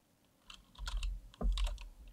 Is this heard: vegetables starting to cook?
no